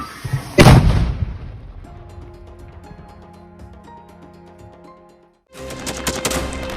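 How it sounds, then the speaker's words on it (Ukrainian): A single loud mortar shot bursts out in a war zone, then a long ringing tail slowly fades, followed by a burst of rough outdoor noise. "Одну міну вогонь."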